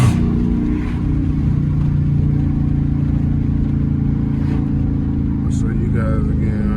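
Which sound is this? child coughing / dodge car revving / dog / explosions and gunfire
dodge car revving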